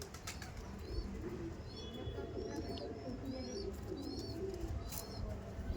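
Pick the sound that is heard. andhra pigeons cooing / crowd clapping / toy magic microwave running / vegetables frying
andhra pigeons cooing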